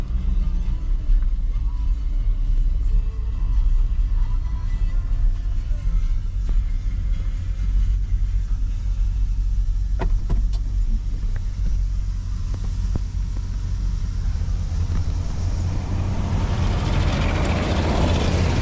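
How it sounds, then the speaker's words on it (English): A Yale forklift's heavy engine rumbles steadily at idle throughout, low and continuous, with a few faint clanks and a rising hiss near the end. "the truck is running"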